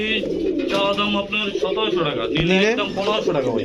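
Pigeons coo at a busy pigeon market, with soft rolling calls layered under a man's steady speech and other market voices nearby.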